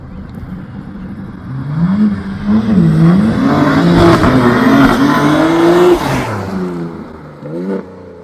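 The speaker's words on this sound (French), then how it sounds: "J'entends une M arriver là." A BMW M car arrives on a Brussels street, its engine revving and climbing in pitch as it draws near, loud and rising before dropping off, with faint talk underneath.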